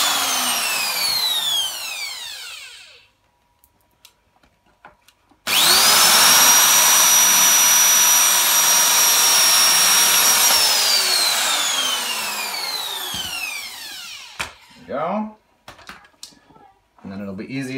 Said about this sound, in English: This is a 5mm drill bit, what I usually use.